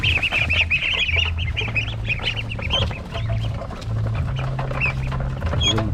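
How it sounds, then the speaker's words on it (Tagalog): Penned Peking ducks at feeding time on a farm, a loud close chorus of busy quacking and chatter that carries on throughout, nobody speaking. "Ating mga alagang Peking duck"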